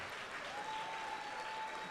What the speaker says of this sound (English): At this time, we applaud you.